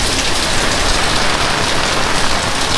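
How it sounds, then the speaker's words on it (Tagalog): Heavy rain pouring down steadily, loud and close, a dense unbroken hiss of drops hitting surfaces with no voices. "Lakas ng ulan."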